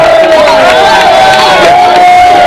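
Residents at an outdoor public event gather in a loud, continuous crowd, with cheering and shouting as a dense, steady wall of voices for the whole stretch.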